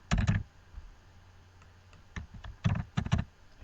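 Computer keyboard typing in short clustered bursts of clicky keystrokes, a quick flurry at the start and several more near the end, with quieter isolated taps between, close and moderately loud with no voices.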